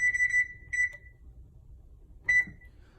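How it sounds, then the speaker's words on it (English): An oven timer beeps as it is set in a home kitchen: a few short, high electronic beeps in quick clusters, then a pause and one more beep, clear against a quiet background. "And then we'll put the timer on."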